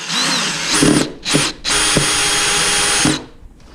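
A brad nailer driving fasteners into wood during glue-up with Bondtite 3, heard as three close, loud pneumatic bursts: two short ones and then a longer sustained hiss, with sharp thuds of the nail strikes.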